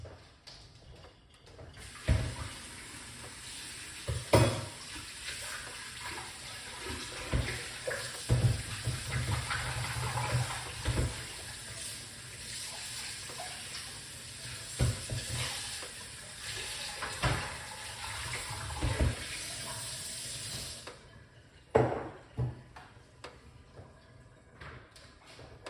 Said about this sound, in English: Let's wash out the ingredients.